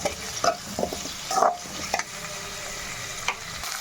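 Drumstick pieces sautéing in a pan for Tamil tamarind puli kuzhambu, with a close, steady sizzle and repeated spoon stirs and scrapes knocking against the pan in uneven bursts.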